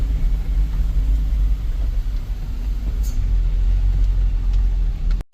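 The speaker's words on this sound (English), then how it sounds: "Man, I love exhaust brake." A vehicle's exhaust brake holds it back on a steep descent, producing a deep, steady low rumble that continues throughout before cutting off abruptly.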